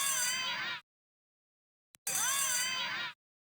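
A school bell rings twice in the JumpStart 1st Grade game. Each ring is a bright, shrill, warbling burst lasting under a second, separated by a clean silence and a tiny click.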